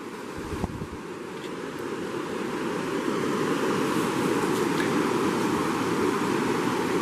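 River water rushes over a gravel bar on the Cispus River, a steady broadband wash that swells slightly and stays close and continuous, with wind noise on the microphone and no talking.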